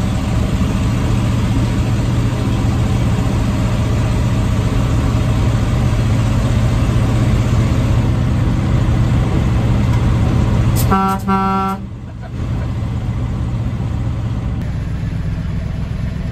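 An International Loadstar truck on a farm idles with a steady, close, low diesel rumble; about eleven seconds in, a short horn blast sounds over it, then the engine keeps running alone.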